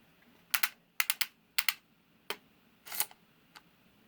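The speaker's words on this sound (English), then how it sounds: "You can hear the click as it comes out." A retractable sewing tape measure clicks repeatedly in a quiet room: a series of sharp, close, light plastic snaps in small irregular clusters.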